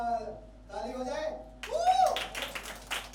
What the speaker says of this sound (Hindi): संक्रांति है तो बच्चों थोड़ा सा ताली हो जाए।